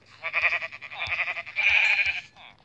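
A Minecraft sheep bleats in a game, two or three quavering, nasal bleats close and fairly loud, with no talk over them.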